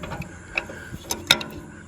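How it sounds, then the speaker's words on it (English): Wrench ratcheting on a bolt of a Tarter Industries tractor roto tiller, giving a few scattered metallic clicks and ticks at close range with a quiet gap between them. "I just take my wrench."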